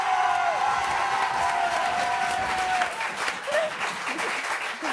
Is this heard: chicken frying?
no